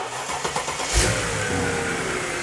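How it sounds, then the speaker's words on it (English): A Mercedes SUV engine cranks and catches about a second in, then settles into a steady idle, loud and close with no voices. "we have everything together we need to start this up and get it up to operating temperature"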